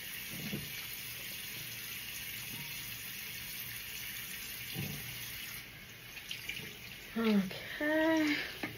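A bathroom tap runs steadily while a Fenty face scrub is rinsed off, a soft broadband wash of water with occasional splashes, then louder, more irregular splashing and faint voice-like sounds near the end.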